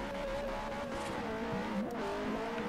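Car in Forza Horizon on Xbox 360 whipping through a handbrake 180 spin, a steady engine drone with wavering pitch and a brief tire squeal partway through, loud and continuous with no talking.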